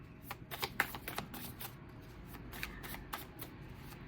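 Tarot cards shuffled by hand in a quiet room, a soft run of light riffling clicks and papery taps, fairly faint and close, with no talking.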